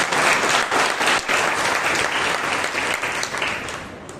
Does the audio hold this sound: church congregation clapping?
yes